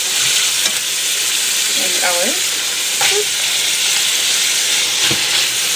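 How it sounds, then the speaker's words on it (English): Vegetables sizzling in a hot frying pan, a steady broadband hiss running throughout with a few brief stirring clatters, close and fairly loud, and a single short spoken word near the end. "So I can now put in the vegetables."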